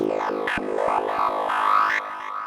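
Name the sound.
synthesizer lead sound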